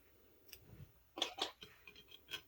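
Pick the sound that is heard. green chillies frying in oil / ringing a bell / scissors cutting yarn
scissors cutting yarn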